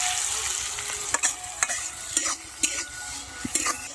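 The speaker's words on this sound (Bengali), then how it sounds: "পেঁয়াজটা একটু ভাজা ভাজা হয়ে এলে এর মধ্যে আদা রসুন দেবো" Onions fry in a pan on a wood-fired clay stove, giving a steady close sizzle broken by sharp scrapes of stirring every half second or so. Nobody speaks.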